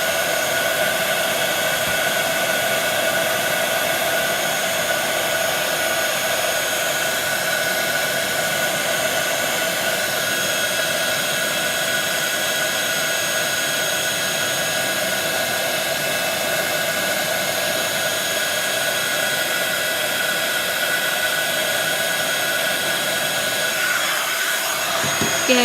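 Steady, loud blowing whir of a heat tool running continuously, melting glitter embossing powder on a craft project, with no talk over it and a slight shift near the end.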